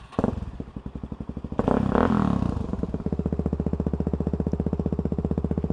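A Suzuki DRZ400 motorcycle engine close by, giving a brief rev, then surging harder before settling into a steady, rapid thumping beat; no voices.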